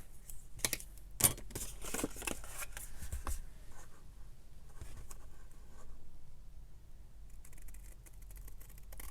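Scissors snip through a book page along a drawn line, a series of close, crisp cuts and rustling paper during the first few seconds, easing into soft handling noise over a steady faint background.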